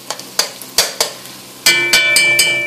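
Puerto Rican seasoning mixture cooking in a pot, a close sizzle broken by repeated scraping stirs of a spoon, about eight strokes in quick succession, with no talking.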